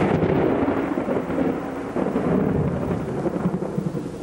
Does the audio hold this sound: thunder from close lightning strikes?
yes